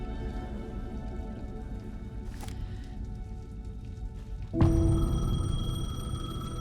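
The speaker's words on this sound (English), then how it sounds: "The payphone was ringing." A payphone in the video game Alan Wake 2 starts ringing abruptly partway through with a bright electronic bell, over a steady bed of rain.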